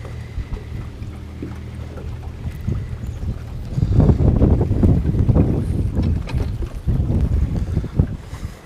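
Steady wind buffets the microphone outdoors on the water while fishing, a rumbling low roar that swells louder and gustier partway through, with no voices over it.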